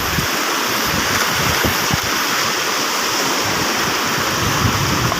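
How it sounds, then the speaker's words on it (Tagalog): A strong river current rushes loudly and continuously, a broad steady roar of fast-flowing water close by with no voices over it. "Hindi ako makapunta doon, lakas ang agos oh"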